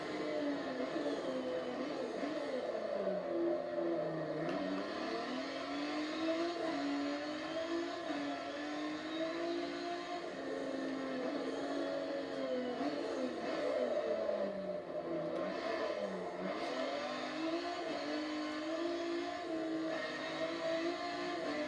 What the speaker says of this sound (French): Là pareil, le moteur il en peut plus.